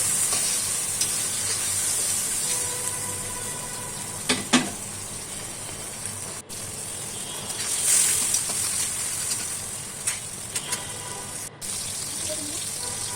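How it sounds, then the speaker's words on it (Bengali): Chicken roast frying in a wide pot with ginger paste, stirred close up with a steady sizzle and occasional scraping clinks of the utensil against the metal. "এখন আমি ভালো করে একটু নেড়ে নিব কাঁচা ভাবটা যেন না থাকে"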